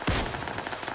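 A burst of PUBG gunfire opens with one sharp, loud shot, then a rapid train of quieter automatic shots crackles through the rest of the moment, with no voices.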